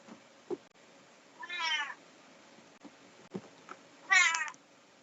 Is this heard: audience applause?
no